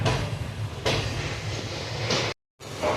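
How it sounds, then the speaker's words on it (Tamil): The Tiruvannamalai–Tambaram express train rolls along after leaving Egmore, a steady loud rumble heard from aboard, with a brief dropout near the end and no talk. "எக்மோர்லேருந்து ட்ரெயின் ஸ்டார்ட் ஆகிடுச்சுங்க"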